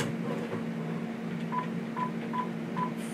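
Four short, evenly spaced telephone keypad tones beep over a steady background hum, each a brief clear pip about half a second apart.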